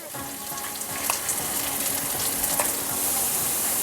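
Crushed coconut hits a hot pan for a sicklepod leaf thoran, giving a steady, close sizzle and frying hiss that grows slightly louder toward the end, with no voices.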